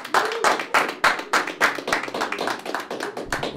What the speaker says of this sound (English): Please give a big round of applause for Mr. John Wilkins.